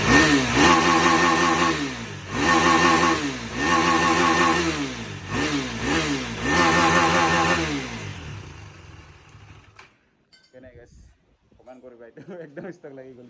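A KTM Duke 390 motorcycle on its stock exhaust is revved hard and repeatedly, each loud rise falling back before the next, until it cuts out after about eight seconds and a voice talks briefly.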